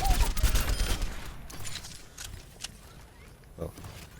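Soldier 76's heavy pulse rifle in Overwatch fires a rapid stream of shots that is strongest at the start, then fades into scattered game sounds while a person keeps talking over it.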